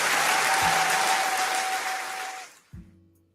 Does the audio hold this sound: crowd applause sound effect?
yes